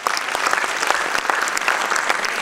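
An audience at a college freshers' welcome event claps together in dense, steady applause, with sharp individual claps scattered through the sustained wash. No voices are heard.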